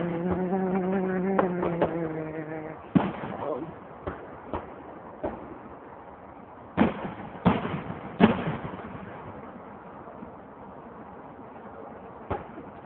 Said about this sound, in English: Freezing my butt off watching fireworks.